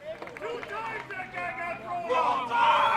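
A crowd at a 2024 American Legion baseball game between Plover and Wisconsin Rapids shouts and argues over a disputed play, a loud, dense babble of raised voices that swells toward the end.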